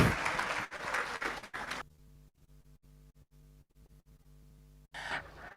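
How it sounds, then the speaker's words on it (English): Applause from an awards ceremony audience, a dense burst of clapping that cuts off abruptly, gives way to a near-silent gap, then returns briefly at the end. "give yourselves a big, big round of applause"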